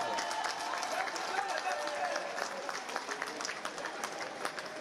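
An audience breaks into clapping and cheering, a busy, steady patter of many hands with excited voices mixed in, filling the room throughout.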